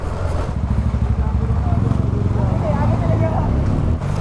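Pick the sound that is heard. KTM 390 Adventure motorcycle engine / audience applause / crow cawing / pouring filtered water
KTM 390 Adventure motorcycle engine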